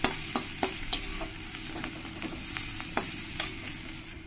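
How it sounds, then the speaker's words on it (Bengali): Onions, ginger paste, ground coriander and cumin sizzle in a hot pan while a utensil scrapes and stirs them in repeated sharp strokes, steady frying hiss underneath, close and clear with no voices. "দিয়ে ভালো করে আমি একসঙ্গে একটু কষিয়ে নেব"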